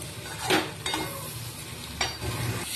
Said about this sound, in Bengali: এখন আমি নেড়েই যাচ্ছি নেড়েই যাচ্ছি নালে তলায় ধরে ধরে আসছে সেই জন্য নেড়েই যেতে হবে